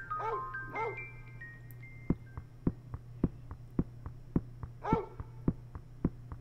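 A dog barking in the Clock Tower 2 video game: a few loud barks ring out over a steady low hum, joined by regular soft thumping beats, with no talk.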